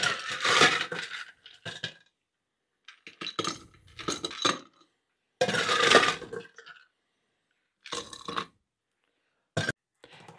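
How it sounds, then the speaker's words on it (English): Ice cubes tumble into a tall Collins glass while a cocktail is made, several separate bursts of bright clinking and rattling close by, with short silent gaps between scoops. "I wanna fill that up with ice."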